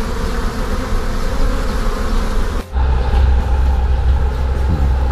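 Dense swarm of honeybees clustered on the underside of a hive, a loud continuous close-up buzzing that drones steadily with a brief dip partway through.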